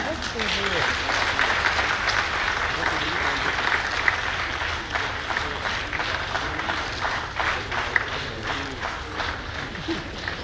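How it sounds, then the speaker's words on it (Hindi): A crowd gives sustained, steady applause at the flag-off of the Kota–Jhalawar City MEMU passenger train at Sogriya railway station in Kota. The clapping runs unbroken for the whole stretch, with voices audible beneath it. "और आप सबसे चाहूंगी प्लीज तालियां बजा दीजिएगा।"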